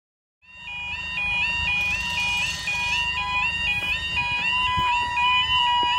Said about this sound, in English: The alarms go out at this crossing.